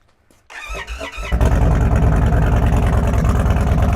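A custom Indian Sport Chief motorcycle engine cranks and catches, then settles into a loud, steady, rumbling idle close by, with no talking over it.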